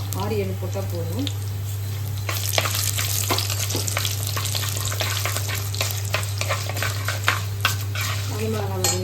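Urad dal and dried red chillies frying in hot oil in a pan, a loud continuous sizzle with quick spatula scrapes and metallic clatter, a voice talking over it at the start and end.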